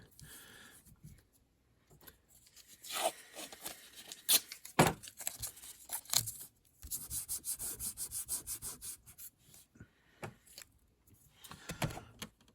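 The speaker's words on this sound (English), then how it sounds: "I can just take my sanding block and run it over the top of the shell wall" Short strokes of a sanding block rubbing back and forth over the shell of a model U50C locomotive, close and quiet, in irregular bursts with brief pauses.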